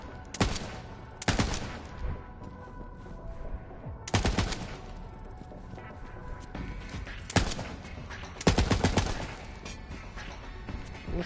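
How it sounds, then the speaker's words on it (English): Gunfire comes in short separate bursts, each a quick cluster of shots, loud and spaced a few seconds apart, about five bursts in all, over a low, steady background. "Looks like it just shoots three bullets."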